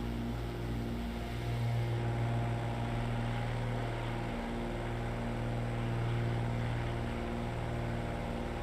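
A Cessna 310R twin-engine propeller plane in a flight simulator, making a steady, droning engine hum with layered tonal buzz at a constant level and no talking.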